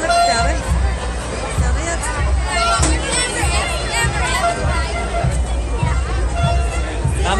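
A crowd at a St Patrick's Day parade chatters in a loud, continuous babble of many voices nearby, with occasional louder shouts rising over the hubbub as people line up to watch tractors pass.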